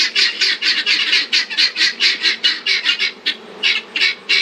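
Guinea fowl give a rapid run of harsh, squawking calls, roughly twenty sharp bursts in steady rhythm, loud and close with nobody speaking.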